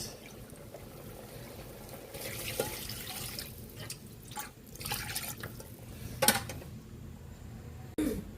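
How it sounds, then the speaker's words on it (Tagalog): Rice-washing water is poured as broth into a pot of pinakbet, with trickling, dripping and splashing that swell and fade unevenly and a few sharper splashes, close and moderately quiet. "Lagyan natin ng sabaw yung ating pinag-ugasan ng bigas."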